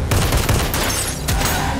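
Rapid gunfire rings out in a film shootout during a robbery, with several sharp, loud shots fired in quick bursts close by and a reverberant, echoing tail.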